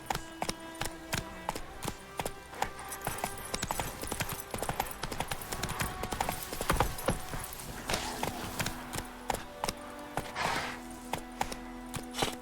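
Roach the horse clip-clops steadily in The Witcher 3: The Wild Hunt, with a brisk, continuous run of close hoofbeats throughout and no speech.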